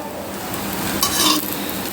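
Batter for an Andhra-style tiffin snack fries in oil poured around it in a pan, giving a steady close sizzle with a brief scrape of a utensil partway through.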